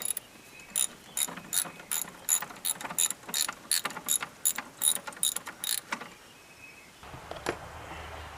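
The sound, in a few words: ratchet loosening the battery hold-down plate bolt on a tractor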